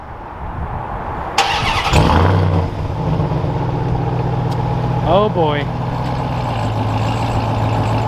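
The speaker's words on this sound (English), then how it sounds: "So I guess this is the last startup for the TRX." A Ram TRX pickup truck engine cranks and catches with a sharp burst, then settles into a deep, steady rumbling idle close by while a man briefly exclaims over it.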